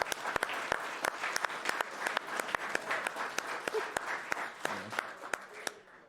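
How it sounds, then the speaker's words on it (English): An audience at a finale gathering claps steadily and loudly, with sharp individual claps standing out over the dense sustained applause of the crowd. "Let's have another round of applause for that."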